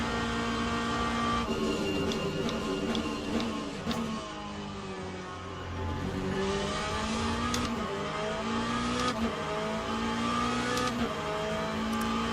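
Aussie Racing Car engine lapping Knockhill in the Assetto Corsa racing game, a steady high-revving drone with rising and falling pitch through gear changes and a brief lift off the throttle, with no talk over it.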